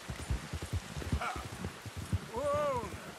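Rain falls in Red Dead Redemption 2 as a steady, fairly faint wash behind a voice, with a brief horse snort or whinny near the end.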